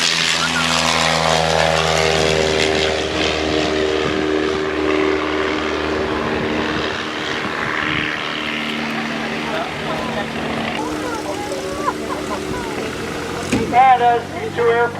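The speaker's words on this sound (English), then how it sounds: "as these two airplanes climb for altitude" Two vintage airplanes, one a 1934 Booker Youngman, drone steadily as they climb for altitude at an aerodrome airshow, their loud propeller engines holding a sustained, slightly shifting tone while an announcer's voice carries over the noise.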